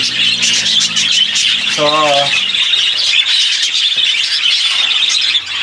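Pet birds chirp and squawk in a busy aviary, with a rapid warbling call standing out briefly among steady, dense chatter, while someone speaks over the top.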